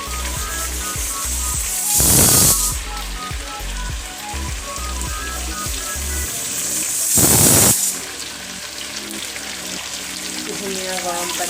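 Hot water poured into a hot pan of fried potatoes, bursting into two loud, broad hissing splashes against a steady background sizzle.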